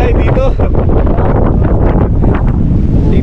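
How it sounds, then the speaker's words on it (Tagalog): Strong wind buffeting the microphone on a rock in the middle of the sea during a sudden squall, loud continuous roaring gusts, with a voice talking underneath. "biglang lumakas ang hangin"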